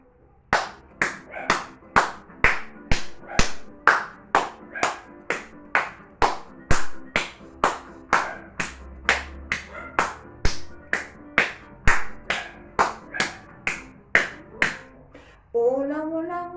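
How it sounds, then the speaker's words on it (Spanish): Hands clap along to a children's song, about thirty crisp, evenly spaced claps at a steady beat, close and loud, ending with a brief burst of voice. "Vamos a aplaudir."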